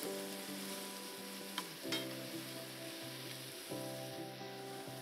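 Shrimp with basil fry in a pan, giving a faint, even sizzle throughout with a couple of light clicks as they are turned.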